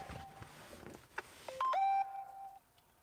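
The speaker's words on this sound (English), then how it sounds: "Who's ringing me?" A mobile phone sounds an incoming-call ringtone, a few short electronic beeps then a bright rising tonal chirp, near and clear in a quiet room.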